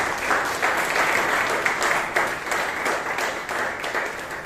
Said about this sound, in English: you deserve a massive round of applause.